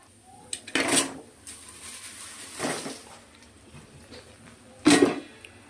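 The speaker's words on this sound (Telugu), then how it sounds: "అటుకులు వేసుకొని మంచిగా కలుపుకోవాలండి" Flattened rice (poha) stirred in a pan with turmeric, three separate scraping, rustling bursts of spoon against metal with quiet pauses between them, close and moderately loud.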